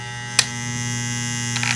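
Andis Master hair clippers run with a steady, close electric motor hum and buzz, constant throughout, with a couple of brief clicks or taps over it.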